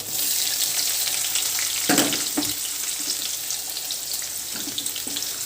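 Garlic and onion frying in a pan on low heat while cooking amaranth greens: a steady, close sizzle with a few clattering stir and scrape sounds, no voices.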